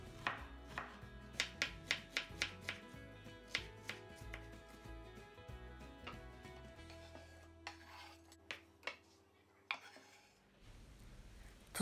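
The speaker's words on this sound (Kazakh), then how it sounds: "Оған дейін пиязын турап," An onion is chopped with a knife on a board, giving a string of sharp, regular taps that thin out into scattered cuts, quiet and close over soft background music.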